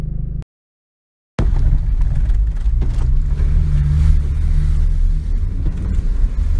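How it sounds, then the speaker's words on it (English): After a brief silence, a 2005 Acura RSX engine rumbles and revs steadily while creek water churns and splashes around the car. "I'm about to roll the clip of me driving through the creek"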